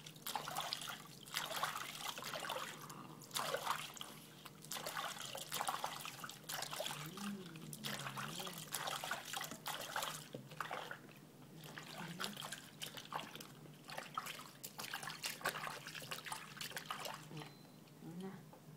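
Water trickles and splashes softly and continuously as a baby is bathed, faint and close, while adults talk quietly throughout.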